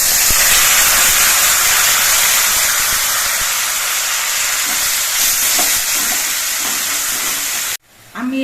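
Spice paste of ground ginger, tomato and coriander leaves sizzles steadily in a pan for a papad kofta curry, a loud continuous hiss with faint stirring, which cuts off abruptly near the end.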